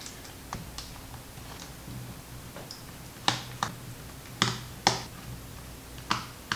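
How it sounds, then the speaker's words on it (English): Screws and a side plate are taken off a Samsung Galaxy Book Flex Alpha laptop. Crisp, sharp clicks and snaps come at uneven intervals, with several louder ones near the end, over a quiet background. "Now we'll remove this side plate as well so that we have access to the complete keyboard."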